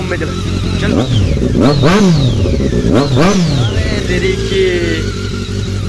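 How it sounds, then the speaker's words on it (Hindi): A Dhoom-style motorcycle revs up hard several times in a row, each throttle blip rising and falling sharply, loud and close with the engine idling between bursts while people talk over it. "हम लोग इस बाइक का साउंड सुनेंगे"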